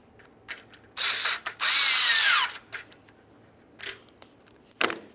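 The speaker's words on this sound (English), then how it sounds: "Go ahead and start this in and snug it up with a 10 millimeter socket." Power tool and ratchet running a grille stud down with a 10 mm socket on a 2003–2011 Mercury Grand Marquis, a loud one-second whir followed by a longer burst, then short scattered clicks and taps, no talk.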